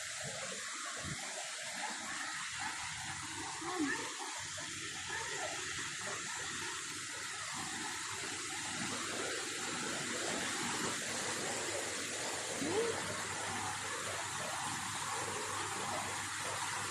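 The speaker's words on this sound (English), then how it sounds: "Waterfall in Swiss Park." Waterfall in Swiss Park, Khor Fakkan, a steady broadband rush of falling water that holds at an even level throughout, with faint voices now and then.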